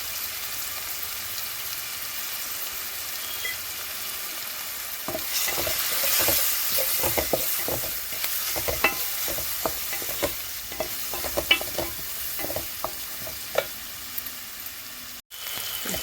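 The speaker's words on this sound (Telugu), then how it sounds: "దీనిలో మనము అల్లం వెల్లుల్లి పేస్ట్ చక్కగా వేగనిద్దాం." Ginger garlic paste frying in a pan with salt, chili powder and turmeric, a steady hissing sizzle broken by repeated scraping stirs that pick up through the middle, with no voices.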